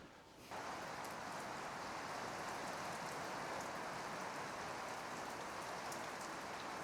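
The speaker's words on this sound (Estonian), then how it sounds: "aga praegu vihma sajab." Rain falls steadily outside on a wet day, a close, even hiss of drops that begins after a brief quieter moment and then continues unbroken at a constant level.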